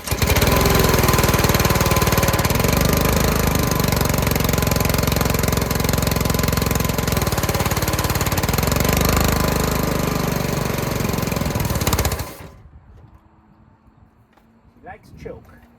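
A small engine on a roadside-found pressure washer runs loud and steady with a rough, knocking chatter for about twelve seconds, then cuts out, leaving quiet with a few faint knocks.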